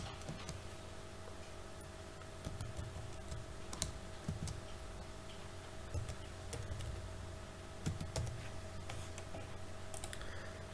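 Keys tapped on a computer keyboard while a new password is entered for a Salesforce account reset, light scattered clicks in short uneven bursts, faint and close over a steady low hum.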